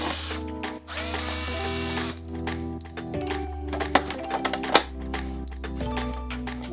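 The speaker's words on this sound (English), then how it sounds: "I can take a drill and then drill a hole between each piece" A power drill whines up and down in short bursts, drilling holes in 3D printed plastic surfboard pieces, with plastic clicks and knocks between runs, close and fairly loud.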